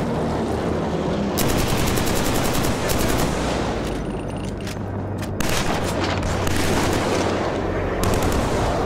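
Heavy, sustained automatic gunfire and booming blasts from a firefight against snipers in the first-person shooter Killzone 3, loud and close, with dense rattling bursts and brief lulls throughout.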